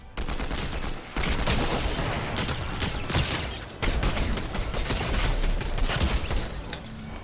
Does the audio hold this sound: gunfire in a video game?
yes